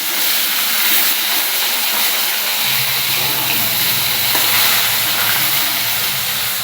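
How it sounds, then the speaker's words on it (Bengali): Fish frying in a pan in a home kitchen, giving a steady, loud broadband sizzle that runs through the whole stretch, with a low hum entering midway. "আমি এদিকে মাছটা ভেজে নিই।"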